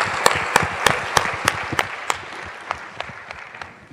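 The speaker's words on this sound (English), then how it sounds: "let's give them a hand for applause" Audience applause at a pitch competition event, a modest crowd clapping with a few sharp, close hand claps standing out in a regular pattern.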